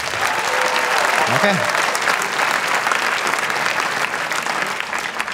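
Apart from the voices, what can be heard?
audience clapping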